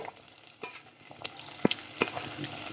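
Shallots and onion sauté in a pan with an even, fairly quiet sizzle, broken by a few sharp taps and scrapes of a spoon against the pan, close by and without speech.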